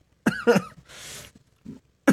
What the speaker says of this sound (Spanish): Me muero, la tos.